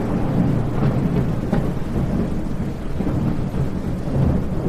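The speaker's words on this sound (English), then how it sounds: "Let the sound of the wind and rain wash over you, gently easing your mind." A thunderstorm with wind and steady rain, a continuous loud wash of rainfall and gusts with deep rumbles of thunder rolling underneath and a few sharper cracks, no voices.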